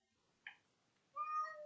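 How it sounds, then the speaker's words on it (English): A cat meows twice in a strategy video game mod: a short, fairly quiet mew, then a longer, louder drawn-out meow, with no talk over it. "Oh my god, cat."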